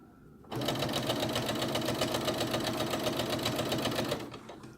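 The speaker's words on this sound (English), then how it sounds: "Alright, I'm just going to raise the speed a little bit." Sewing machine stitching a drawstring backpack at raised speed, a fast, even mechanical chatter that starts abruptly, runs steadily for about four seconds, then stops, close by.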